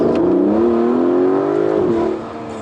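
An Aston Martin DB11 accelerates on the road, its engine note climbing steadily and loud and close, then dropping as it eases off near the end; no one talks.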